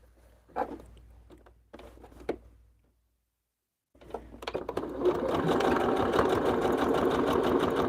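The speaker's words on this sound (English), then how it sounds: "I'm just going to sew against this back line of the white fabric I had." A sewing machine stitching along the back line of white fabric, opening with a few short separate bursts, then a pause, then a steady continuous whirring run of stitching.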